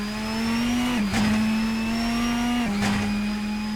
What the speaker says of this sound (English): A massive V10 engine in front of me, roughly the size of your living room